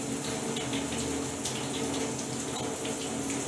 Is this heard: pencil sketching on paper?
no